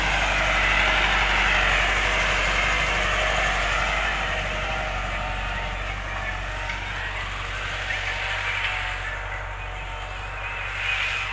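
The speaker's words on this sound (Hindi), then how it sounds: "वो ट्रैक्टर आया," A tractor engine in a village field runs steadily with a mid-pitched mechanical drone, loud at first and easing slightly, with a faint voice now and then.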